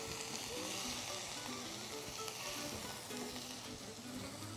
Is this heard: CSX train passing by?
no